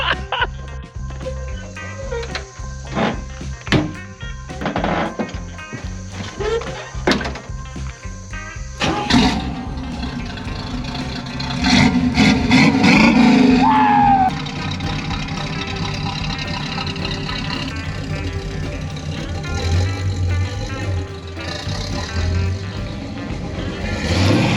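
A field-find Pontiac Firebird, freshly converted to a 4-speed manual, runs and drives, its engine rumbling at varying load amid clunks and rattles, growing louder mid-way as it pulls off, with faint voices nearby.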